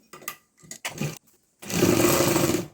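An electric sewing machine stitches a cloth bag, with a few short stop-start bursts of needle chatter followed by a longer, steady, close-up whirring run. No voices.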